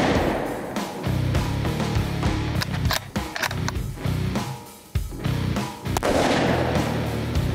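A rifle fires at an empty .308 cartridge case as a target outdoors, with loud, dense, continuous noise and a few sharp transient cracks, close and without talk.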